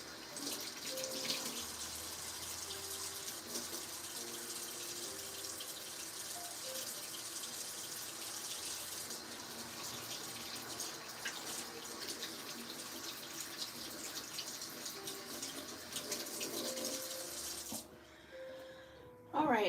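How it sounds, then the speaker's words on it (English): Hands are washed under a running kitchen tap before cashews are prepared, with a steady close splash of water lasting many seconds before it stops abruptly near the end. "I wash my hands."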